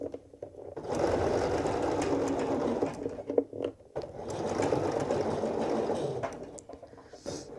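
A sewing machine stitching a tight little circle around a sleeve hem, its motor whirring steadily in two long runs with a short pause between them, close and clear, with no talking.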